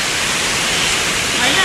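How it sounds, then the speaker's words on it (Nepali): Loud, steady rush of a waterfall at Latpanchar, close by, a dense unbroken roar of falling water. "झर्न कस्तो बच्छ भनेर"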